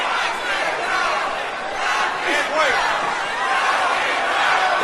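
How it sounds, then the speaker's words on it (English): A boxing crowd roars inside the Pensacola Bay Center during Roy Jones Jr. vs Scott Sigmon, a dense, sustained wash of cheering and shouting that swells slightly, with indistinct voices blended into the noise. "The crowd coming alive inside the Pensacola Bay Center."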